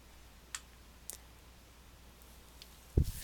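A computer mouse clicks a few times, faint and sparse, with single light clicks spaced apart and a slightly stronger one near the end over a quiet background.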